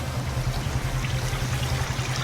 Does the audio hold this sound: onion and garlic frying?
no